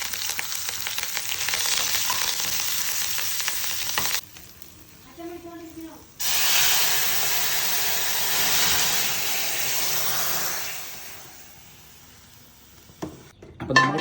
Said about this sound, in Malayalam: ചെറിയ ഉള്ളി ചതച്ചിട്ടാണ് താളിക്കുന്നല്ലേ അമ്മ?